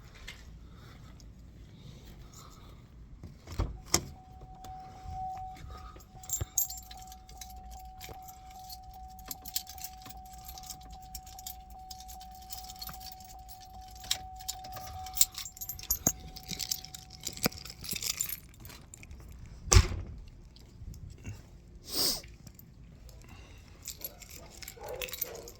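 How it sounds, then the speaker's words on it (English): Keys jangle in short, scattered bursts at moderate distance, with a steady faint hum running through the middle and occasional louder clinks and handling noises, no voices. "I gotta grab my keys."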